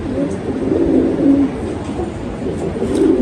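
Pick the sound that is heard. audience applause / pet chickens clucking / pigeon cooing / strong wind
pigeon cooing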